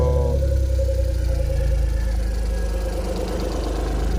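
A Suzuki DA62 engine idles steadily nearby, a continuous low mechanical rumble with a faint ticking texture and no talk over it.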